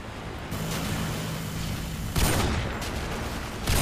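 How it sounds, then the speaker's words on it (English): Gunfire aimed at a Cobra helicopter in Modern Warfare 2, with a dense continuous rattle of shots and two louder bursts of booming fire, with no talking. "Guys shooting their guns at the Cobra"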